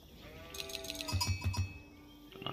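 Sheep bleating in the video game Age of Empires IV, a few wavering harmonic bleats from nearby in the middle of the clip, alongside soft game chimes and effects, with no talking.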